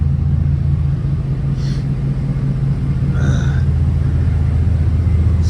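A pickup truck engine idles steadily, a continuous low rumble that stays even throughout, close by and alone, with only faint brief chirps in the background.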